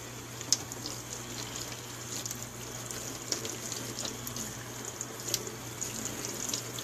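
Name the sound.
washing makeup brushes in water with baby shampoo lather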